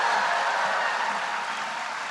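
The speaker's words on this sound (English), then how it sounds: "That's going to get the biggest applause." Theater audience at a political event applauds loudly, a dense, steady wash of clapping that fills the room and tapers slightly toward the end, with no voices standing out.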